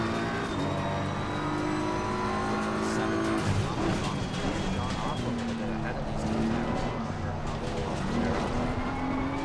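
A race car laps Oulton Park circuit during a multiclass race, its engine note droning steadily with rising and falling pitch amid broad track noise, while a commentator talks over it.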